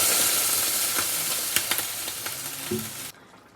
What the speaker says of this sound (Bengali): এবার আমি এতে পরিমাণ মতো জল দিয়ে দিলাম